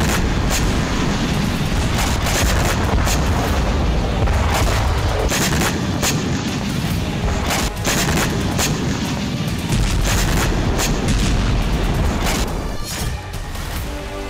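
Artillery shelling and bomb explosions in the Kursk region, with dense, continuous booming and blasts that fill the whole stretch loudly, sharp impacts stacked over a heavy rumbling roar and no voices.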